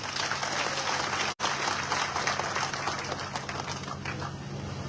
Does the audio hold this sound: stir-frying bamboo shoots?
no